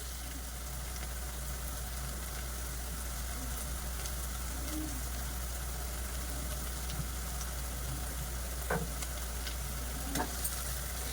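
Chopped, boiled taro root pieces fry in a pan of masala with a steady, even sizzle that lasts throughout. Occasional faint knocks of stirring rise above the hiss.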